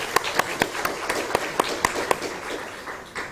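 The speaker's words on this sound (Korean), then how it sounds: "다시 한번 크게 박수 한번 드리십시오." A congregation at a church thanksgiving service giving scattered applause: a handful of distinct, sharp claps in an uneven rhythm over a low room murmur, with no full ovation building up.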